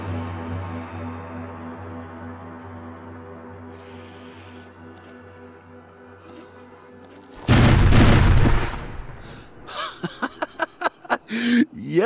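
A bomb blast in a video game set in Arizona, with a sudden loud, deep boom that rolls on for about two seconds after a quieter stretch of game ambience. A quick series of sharp pops and cracks follows.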